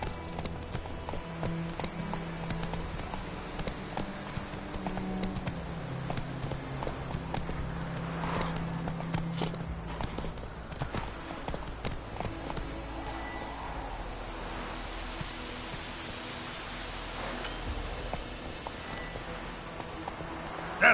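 Roach the horse's hooves clip-clop steadily in The Witcher 3, a regular walking rhythm that runs the whole way through over a low game ambience.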